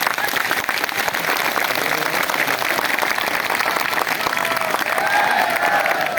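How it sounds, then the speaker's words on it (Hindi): Sustained crowd applause for a political leader at a rally supporting Rohtak PGI employees, dense steady clapping filling the whole stretch with a faint whistle near the end. "भाई दिल से तालियां बजा दो नेताजी के लिए, तालियां बजा दो"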